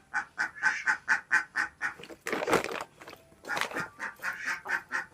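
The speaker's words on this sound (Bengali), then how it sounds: "এগুলো আমাদের মুরগি, হাঁস মুরগি দুটোই আছে।" Ducks and chickens in a village yard give a run of rhythmic, fairly close quacking calls, broken midway by a noisy flapping scuffle before the steady calling resumes.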